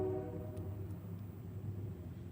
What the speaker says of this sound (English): There's a train going by, so I'm going to shut my vent because it's really loud.